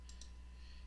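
A computer mouse clicks twice in quick succession while shapes are colored in Adobe Illustrator. The clicks are faint, sharp and close, over quiet background hum.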